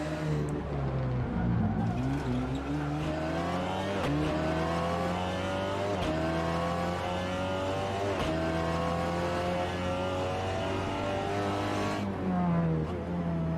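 A WTCR TCR race car in the Assetto Corsa game drones loudly and continuously around the Nürburgring Nordschleife, engine pitch climbing and dropping through repeated gear shifts, with tyre noise underneath.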